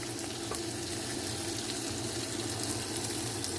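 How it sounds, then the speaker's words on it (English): Boneless, skinless chicken thighs, already seasoned with onion, sear gently in a pan for curry chicken, giving a steady close sizzle and crackle throughout with no talking. "I'm not frying it hard, just to give it a little sear."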